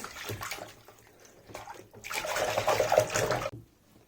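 Fabric embroidered with washable marker is swished and rinsed in a basin of water, soft splashing first, then a louder sustained rush of sloshing water for over a second before it stops abruptly.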